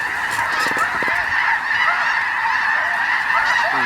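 Snow geese honk loudly and continuously overhead during a goose hunt, a dense chorus of overlapping calls that stays close and steady throughout.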